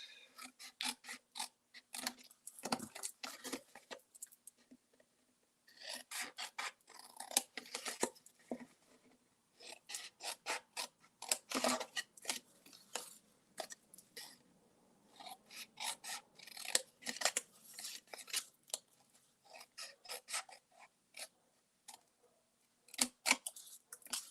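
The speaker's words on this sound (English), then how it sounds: "cut these 4 squares off, okay, in the corners" Scissors snipping through paper to cut small squares from the corners of a paper basket craft, close and crisp, in repeated bursts of short cuts separated by brief pauses, with no talking.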